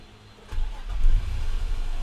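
A Nissan Teana sedan, a top-trim model around 18-19 years old with a key card, starts up with a low rumble that surges half a second in, then settles into a steady idle heard alone.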